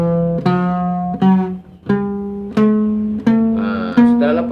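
Plucked acoustic guitar notes ring out one at a time, about six clear attacks in a steady slow rhythm, moving from the fourth string to the open third string, each note sustaining close and clean with no voice over it.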